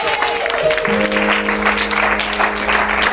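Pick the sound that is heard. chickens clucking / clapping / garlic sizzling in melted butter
clapping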